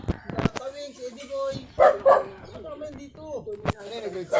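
A dog barks a couple of times over busy background chatter at a provincial birthday gathering, with people talking throughout and a sharp knock near the end.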